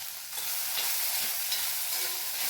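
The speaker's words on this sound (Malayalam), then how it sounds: "ഇതൊന്ന് നമുക്ക് ഇളക്കി ഇളക്കി കൊടുത്തു കഴിഞ്ഞാൽ നമ്മുടെ തോര സെറ്റായിട്ടുണ്ട്" Grated coconut stirred into ivy gourd thoran in a pan, giving a continuous soft hiss of scraping and light sizzling with gentle rhythmic swishes, close and steady, no voices.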